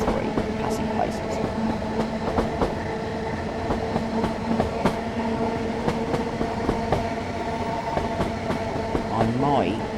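A train running in the Train Sim World 5 video game rumbles steadily along with repeated rail clicks and clanks, loud and close, a brief squeal near the end, while a voice talks over it.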